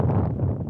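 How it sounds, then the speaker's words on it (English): Wind buffeting a microphone outdoors, producing a loud, low rumbling roar that stays continuous for under a second. "it's getting windy"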